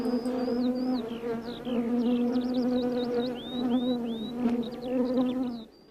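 A swarm of honeybees buzzing in a steady, dense drone, close and continuous, with bright chirping calls repeating above it until the sound drops away at the end.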